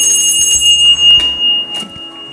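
A mechanical alarm clock rings with bright metallic bell tones, loud and close, the ringing continuing in bursts for a couple of seconds.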